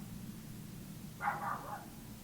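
A short burst of dog barking, two or three quick yaps in the middle of the clip, over a low steady hum.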